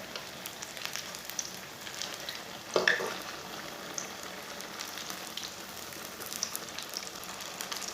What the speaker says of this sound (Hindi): अब इसे 2 मिनट तक फ्राई कर लेंगे।